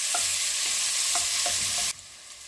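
Sliced onions fry in a pot in sausage juices with a dense steady sizzle, while a spoon scrapes and taps against the pot a few times before the sizzle suddenly drops away.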